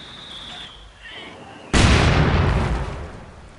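A single loud mortar blast from Company of Heroes 2 erupts partway through, a broad close boom that lingers and rumbles on after quieter battlefield ambience.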